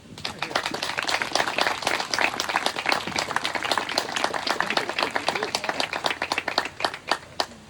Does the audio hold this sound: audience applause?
yes